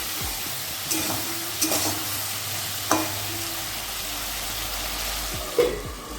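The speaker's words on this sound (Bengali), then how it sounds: "একটু নাড়িয়ে আবার দু মিনিটের জন্য ঢেকে দেব" Taro curry with tangra fish being stirred in a pan, a steady low sizzle under several distinct scraping strokes of a spoon against the pan.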